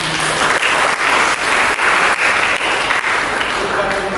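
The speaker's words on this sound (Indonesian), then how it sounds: "Berikan tepuk tangan untuk" Loud sustained applause from a church congregation, continuous dense clapping with voices and cheers layered over it throughout.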